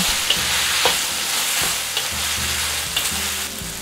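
Beef stir-fried with diluted starch on a hot plate gives a loud steady sizzle, broken by repeated scraping and stirring strokes of the utensil, with no voices.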